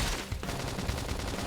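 Rapid gunfire from a battle in the video game Xenoblade Chronicles X: Definitive Edition, a dense, fast-repeating rattle of shots that is steady and fairly loud throughout.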